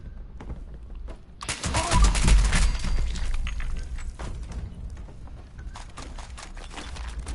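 Explosions from bombs in Fallout 76 on PS5: a rumbling series of heavy booms and crackling blasts builds to a loud peak, then continues as scattered thuds and rolling noise.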